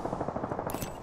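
Rapid automatic gunfire in the Apex Legends shooter game, a quick rhythmic burst of about a dozen close, sharp shots followed by brighter impact cracks near the end.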